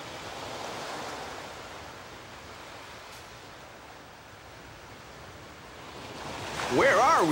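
Ocean waves in the video game Tales of Legendia give a soft continuous surf wash that swells and recedes. A brief tonal game chime rises near the end.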